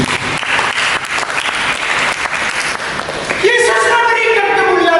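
Congregation applause during a church sermon, dense clapping that fades as a voice begins speaking over it near the end.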